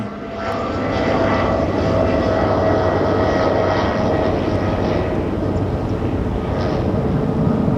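A Fairchild propeller aircraft at Sky Harbor airport passes with a steady, loud droning engine roar and a constant whine, sustained throughout without talk.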